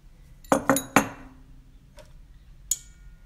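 A teaspoon clinks against a bowl while sugar goes in for Moroccan sfenj doughnut dough, three quick close metallic taps followed by two fainter lighter clinks after a pause.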